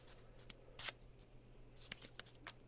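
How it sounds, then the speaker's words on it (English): Sheets of regular instruction paper from a work light box are handled close up, with several quiet crinkles and rustles, one sharper burst near the start, against a low background hum. "sounds like just regular paper."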